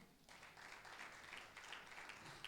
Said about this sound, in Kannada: ಜೋರಾಗಿ ಚಪ್ಪಾಳೆ ಹೊಡಿಬೋದಾ?